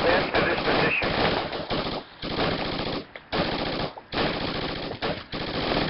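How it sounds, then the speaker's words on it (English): Gunfire in the military shooter Project Reality: loud, close bursts of automatic rifle and machine-gun fire, rapid rattling volleys broken by short pauses, with a voice briefly underneath. "Shots fired. Taking fire from the construction."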